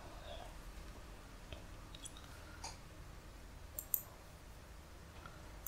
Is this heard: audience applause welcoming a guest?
no